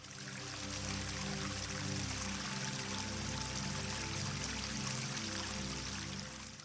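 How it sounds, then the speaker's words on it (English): Fresh water streams and runs off plants and trees on lush green hills along a Himalayan pilgrimage route, a steady close pouring wash that holds evenly from start to finish over a faint tonal hum. "fresh streams of water dripping from plants and trees welcomed us along the way"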